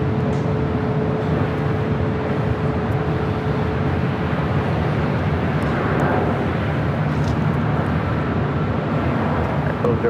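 A WestJet Boeing 737 MAX 8 at LAX, lining up on runway 24 left, gives a steady, continuous jet engine roar that holds at an even loudness throughout with no breaks.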